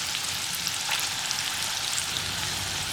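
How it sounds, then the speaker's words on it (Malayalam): Chickpeas fry in hot oil with a continuous dense sizzle and crackle, steady and close, with faint rattling as they cook and no voices. "കപ്പലണ്ടി വറുക്കുമ്പോഴൊക്കെയുള്ള ഒരു കിലുങ്ങുന്ന സൗണ്ടില്ലേ, ആ സൗണ്ട് കേൾക്കുമ്പോഴാണ് കടലയും കറക്റ്റായിട്ട് ഫ്രൈ ആയി വന്നൊന്ന് മനസ്സിലാക്കാൻ പറ്റുക"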